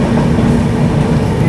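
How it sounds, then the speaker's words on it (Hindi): An AC local train overtakes the Mumbai Rajdhani, filling the space with a steady, loud rolling rumble of wheels on rails and carriage noise, close and continuous with no voices. "AC local overtaking Bombay Rajdhani."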